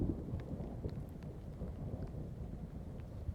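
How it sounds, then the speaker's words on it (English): Stormy weather with heavy rain and strong wind, a steady dense roar of rain and gusts filling the whole stretch with low rumbling that may be distant thunder, no voices. "There's strong wind, lightning, thunder. The rain is heavy."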